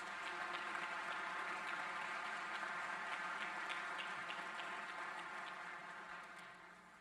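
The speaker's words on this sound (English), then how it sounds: "Let's give everyone a big round of applause" An audience at a fall university convocation gives a sustained round of applause, a dense, even wash of many hands clapping that gradually fades toward the end.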